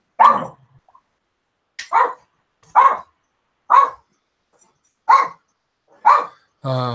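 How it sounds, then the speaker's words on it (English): A neighbouring dog barks six times in separate single woofs spaced about a second apart, moderately loud and close, with a brief voice starting at the very end. "Next door's dog's bark, so unfortunately I can't do nothing about it."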